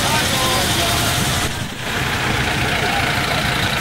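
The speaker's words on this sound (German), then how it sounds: "Unser Feuerwehrfahrzeug hier aus Ilo, ein LF8 vom Typ Robur, wurde 1969 gebaut." A 1969 Robur LF8 fire engine idles at an outdoor anniversary event, with a loud, steady engine rumble and a brief dip partway through.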